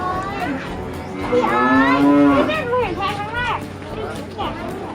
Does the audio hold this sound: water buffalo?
yes